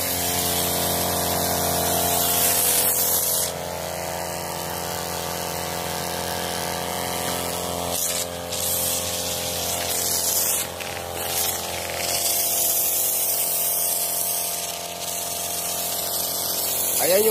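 A DIY carwash foaming machine pumping soap foam hums steadily with a motor drone and a hissing spray throughout, with its level briefly shifting as the valve is adjusted.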